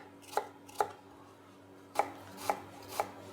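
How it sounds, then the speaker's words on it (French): A knife finely chopping a red onion on a board, five crisp separate taps: two quick ones, a pause, then three more at a steady pace, close and clear. "ciseler l'oignon."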